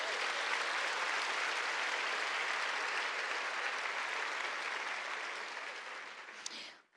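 Church congregation at a women's conference clapping in unison, a dense, sustained roar of applause that holds steady then gradually fades away near the end.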